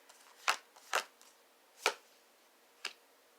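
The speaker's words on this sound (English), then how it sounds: "because I've been shuffling and nothing's happening" Tarot cards being shuffled by hand in a quiet room give four separate crisp riffling snaps, spaced irregularly and close.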